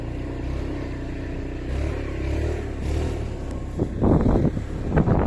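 Motorcycle engine on a dirt trail in Quezon City, a low steady idle and putter, close by, that swells into rougher revving and clattering bursts toward the end.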